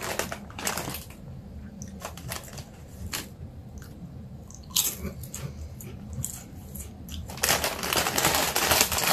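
Crispy taco flavored potato chips being crunched and chewed close up, irregular loud crackling bites separated by quieter chewing and mouth sounds.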